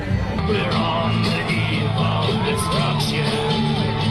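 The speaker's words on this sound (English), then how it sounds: "Crowds gathered, carrying signs and chanting, with tensions on both sides." A crowd of protesters at a Canada First rally over immigration yells and chants together, a dense, loud, continuous wall of voices with rising shouts layered on top.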